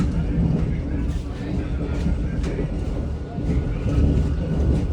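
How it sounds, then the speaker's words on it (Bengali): A Vande Bharat sleeper express running at speed past Kishanganj gives a loud, continuous low rumble with faint rhythmic clatter from the wheels and cars. "যথেষ্ট গতি নিয়ে আমাদের ট্রেন কিন্তু কিষানগঞ্জ পার করে গেল।"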